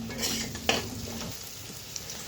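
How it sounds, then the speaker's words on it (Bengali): Small potatoes frying in oil for vegetarian Kashmiri aloo dum: a close sizzle with a sharp clink of a utensil against the pan and light stirring scrapes, no talking. "আলুগুলো ভাজা ভাজা হয়ে গেছে, তাহলে উঠিয়ে নিই।"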